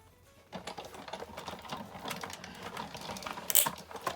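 A die cutting machine runs cardstock and a die through its rollers for a snowman shaker card, making a continuous rattling, ratchety mechanical grind that starts abruptly and holds at moderate level, close by and without talk.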